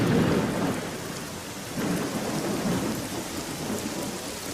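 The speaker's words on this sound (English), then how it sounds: "Look at this rain." Heavy rain pours steadily while deep thunder rumbles underneath, swelling loud at the start and rolling on throughout.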